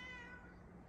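A cat meows close by indoors in a home, a single drawn-out call that fades out.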